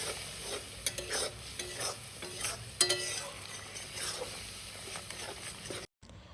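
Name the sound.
stirring and frying spice paste with water for snakehead fish curry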